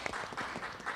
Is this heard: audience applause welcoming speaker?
yes